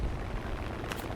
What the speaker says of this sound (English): I dropped the bomb, then hit the bomb with my pilot.